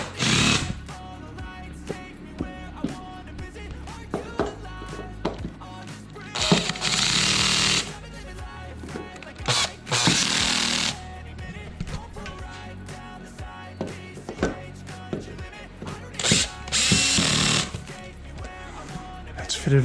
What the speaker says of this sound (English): I've loose fit all the screws in just to make sure we're all lined up, and I'll just go tension them up a bit.